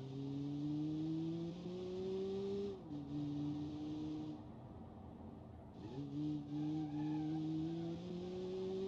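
An Alpine A310 without ABS skids with locked brakes in BeamNG, tires squealing in long sustained tones over the engine, breaking off briefly and then screeching again.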